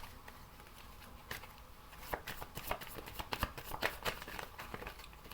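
Tarot cards being shuffled by hand, a close, steady run of quick riffling flicks and soft slaps that grows denser and a little louder midway, with no talking over it.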